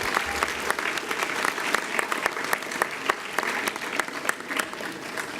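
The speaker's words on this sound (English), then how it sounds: "let's give them one more round of applause" Dense, steady applause from an audience at a student speech night, many hands clapping at once in a continuous moderate-volume patter that keeps going without any talking.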